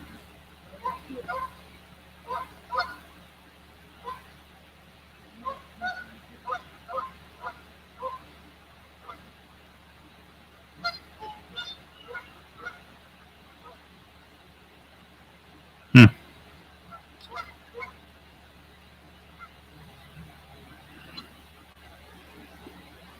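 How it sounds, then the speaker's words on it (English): Geese and ducks honk and quack outdoors in scattered, moderately distant bursts across a quiet background, with one sharp loud knock partway through. "I don't know what that duck's quacking at, or whatever the hell you call the sound of the goose makes."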